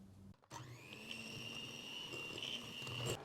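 An electric hand mixer whirs steadily and loudly as it beats marble cake batter after eggs and a teaspoon of vanilla go in, starting abruptly after a brief pause and holding an even motor whine.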